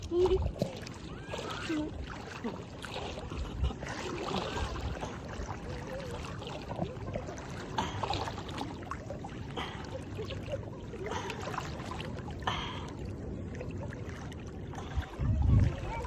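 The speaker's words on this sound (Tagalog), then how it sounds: "Malakas ang agos ng ilog." Strong river current rushing and splashing around legs while wading across a river toward a sandbar in San Felipe, Zambales; steady broadband water noise close by throughout, with louder surges at the start and end.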